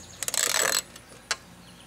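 A 10 mm wrench working on a bolt of a Husqvarna riding mower's plastic deck cover, a brief close metallic ratcheting burst followed by a single short click.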